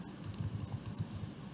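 Quick, soft keystrokes on a computer keyboard as a Cordova command is typed, a close, quiet run of pattering taps with no voice.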